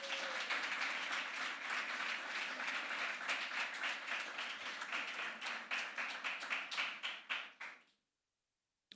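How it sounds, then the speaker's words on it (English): A dense round of audience applause at an awards ceremony, many hands clapping steadily and loud before thinning into a few scattered claps and stopping abruptly near the end. "Another round of applause."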